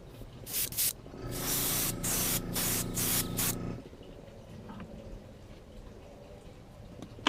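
An airbrush sprays paint through an old comb onto a handmade wooden bluegill bait in a series of short, close hissing bursts, followed by quieter workshop ambience.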